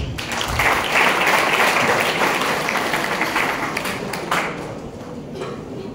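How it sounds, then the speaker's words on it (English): Applause from an audience welcoming the chief guest at a college students' council inaugural function, a dense steady wash of many hands clapping for about six seconds, loud and sustained before thinning slightly toward the end. "Please join me in welcoming Sir with a round of applause."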